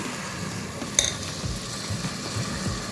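Soaked rice and lentils fry and sizzle in hot oil for a vegetable khichdi, a steady close hiss with light stirring scrapes and one sharp metallic clink.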